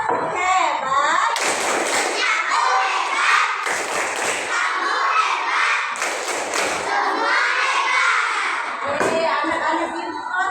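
Schoolchildren in a classroom perform a rhythmic 'tepuk hebat' clapping chant, loud bursts of hand claps and thumps in a patterned sequence, mixed with their shouted chanting voices throughout.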